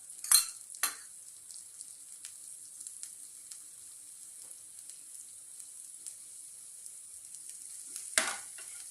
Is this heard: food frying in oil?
yes